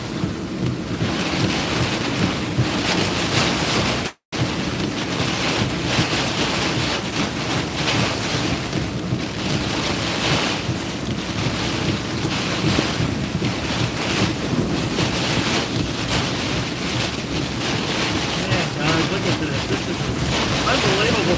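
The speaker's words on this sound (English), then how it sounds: "Unbelievable strong wind." Strong gusting wind roaring across the microphone during a severe weather storm chase, a loud continuous rush with a brief dropout near the start.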